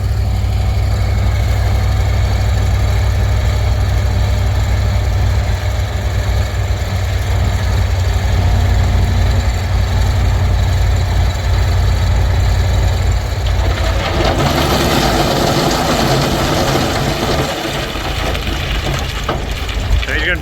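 A Kamaz truck engine runs steadily close by, a loud continuous low rumble with mechanical rattling, shifting in tone near the end as it works.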